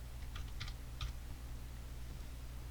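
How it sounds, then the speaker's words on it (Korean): Keys tapped on a computer keyboard in a few quick bursts, close and fairly quiet over a steady low hum, while text is typed into an editing program. "프로그램 모니터 클릭하고 사과라고 타이핑 하실게요"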